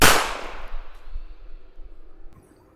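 A single loud pistol shot cracks sharply in a room, then decays into a fading rumble and a few faint trailing knocks, with no voices.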